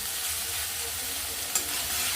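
Beans frying in a pan for a veg momo filling give a steady, bright sizzle up close, with one faint tap near the middle of the short stretch.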